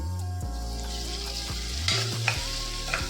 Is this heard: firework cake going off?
no